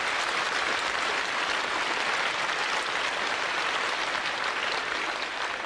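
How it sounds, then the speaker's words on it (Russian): A comedy-show audience applauds in a hall, a dense, even wash of clapping that holds steady throughout without any voices over it. "Аплодисменты настоящей женщине."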